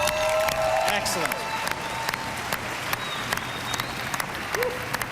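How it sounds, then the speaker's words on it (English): An audience at an Xbox 360 event claps in an oddly near-synchronized rhythm, a sustained patter of applause with some cheering and voices mixed in. "It's weird, almost in sync clapping they're doing"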